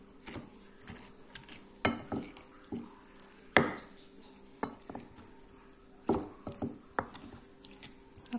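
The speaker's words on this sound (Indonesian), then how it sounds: "kita ulek-ulek." A stone mortar (cobek) pounds and grinds eggplant, tomato, shallots, garlic, chili, tamarind and salt into sambal, giving irregular sharp knocks and scraping taps with uneven pauses, recorded close and clear.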